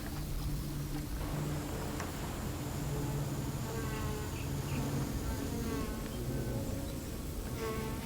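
A swarm of flies buzzes by the water near a landfill and dredged-soil dumping ground. The steady, faint, continuous drone hangs over a low background hum.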